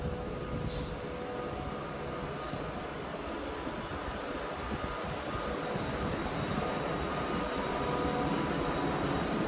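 A Class 323 electric train sits at Manchester Piccadilly station, its steady rumble and broadband hiss filling the space with a constant motor whine and occasional faint high squeals, without any talking.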